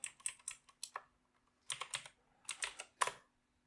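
Someone types a traceroute command on a computer keyboard in short quiet bursts of crisp key clicks, with a pause of about half a second between groups.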